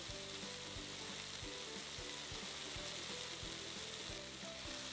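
Onions and broccoli saute in a cast iron pan, giving a steady, close sizzle with light stirring clicks and scrapes through the whole stretch.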